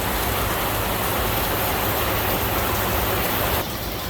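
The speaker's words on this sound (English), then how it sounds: "Now it's really raining." Heavy rain pours down at an outdoor racing event, a dense, steady hiss that stays loud and unbroken throughout, then drops slightly in the final moment.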